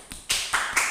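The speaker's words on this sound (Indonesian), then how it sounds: "Kita beri tepuk tangan dulu dong" A few people in a school gathering clap in sparse, separate bursts, about three or four distinct claps within a second, close and fairly sharp.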